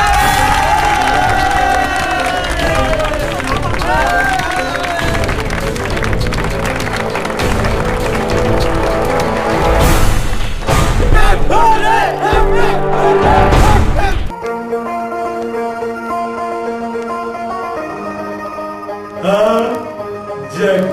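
A crowd at a Chhattisgarhi village gathering applauds and cheers, a loud dense wash of clapping and shouting with voices mixed in, later dropping off into a quieter stretch with music-like tones.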